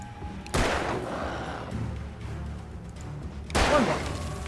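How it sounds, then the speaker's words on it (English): Gunshots from the horror video game Alan Wake: a loud burst of firing at the start and another sharp crack of shots near the end, with quieter game ambience between. "You can see clearly that I'm shooting at you."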